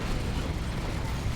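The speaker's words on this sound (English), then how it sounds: "Plasma Cannon Devastator shot goes off." Plasma cannon shot from a Devastator squad in the real-time strategy game Dawn of War II: Retribution, a dense, sustained roaring blast with crackling noise that stays loud for the whole moment amid battle din.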